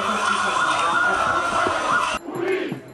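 Large crowd of young protesters against gold mining in Romania, a dense continuous roar of many voices that cuts off abruptly near the end, then a quieter stretch with a single voice.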